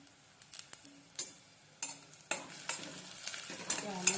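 Onion and curry leaves fry in a pan for dal tadka, with a soft continuous sizzle broken by scraping and clinking stirring strokes that grow busier toward the end.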